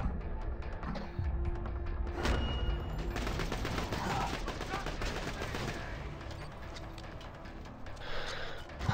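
Submachine gun bursts in an online shooter game, rapid clattering fire in several runs, close and fairly loud, with quieter gaps and some background noise between them.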